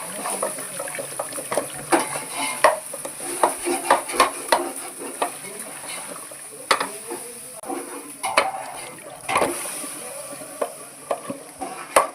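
Cooked gongura leaves mashed and pressed in a pan for gongura chicken, with repeated scraping and clinking of a utensil against metal over a faint sizzle, close and uneven in rhythm.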